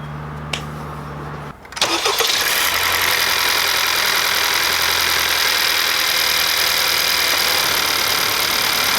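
A 2018 Honda Accord engine cranks and starts, then settles into a steady, even idle that runs without change.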